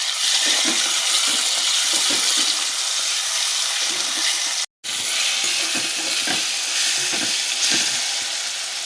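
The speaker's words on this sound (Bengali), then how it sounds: "এবার দিয়ে দেবো ছোটো ছোটো করে কাটা টমেটো।" Chopped tomatoes sizzle and crackle as they fry with ginger and garlic in hot oil, stirred steadily throughout with a brief break midway, no voices.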